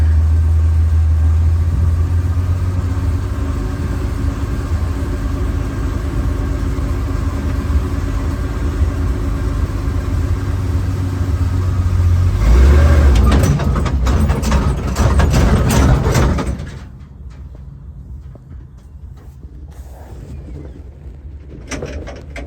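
A 1951 Dodge Power Wagon truck engine idles loudly and steadily, then briefly roughens and stalls, dropping to near quiet with faint background sound.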